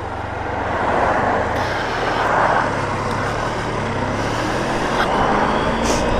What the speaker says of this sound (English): I do apologise for the traffic noise around here because it is absolutely unbearable.